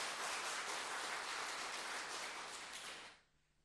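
A church congregation applauds its Sunday worship choir after a hymn, a steady broadband wash of clapping that holds for about three seconds before tapering off abruptly into near silence.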